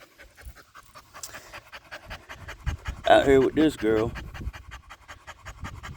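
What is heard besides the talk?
Saint Bernard dog panting on a walk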